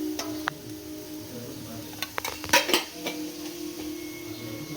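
A metal spoon clinks and scrapes in a bowl as chilli powder and spices are mixed into raw fish pieces, with scattered light taps and a brief burst of clattering, nearby and fairly quiet.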